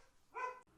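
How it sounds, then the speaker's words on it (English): A dog gives a single short bark, faint and off in the distance, a brief yelp standing out against a quiet room. "My dog's barking."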